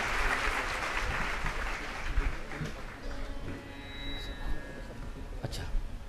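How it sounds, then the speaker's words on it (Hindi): Audience applause welcoming a new vice-chancellor at a university initiation ceremony, a dense sustained clatter of many hands that gradually thins and fades, with faint voices and a few tonal sounds in the background. "उनका भी हम ताली बजा करके खूब जोर से"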